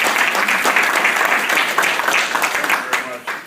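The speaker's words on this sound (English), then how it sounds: "Let's give him a round of applause." Audience applause for Minnesota Governor Mark Dayton at an event in Worthington, a loud dense burst of clapping that holds steady then fades toward the end.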